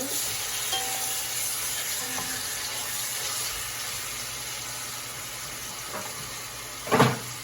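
Turkey drumsticks sizzle and crackle steadily in a hot pan, a constant close frying hiss, with a brief louder clatter near the end and no talking.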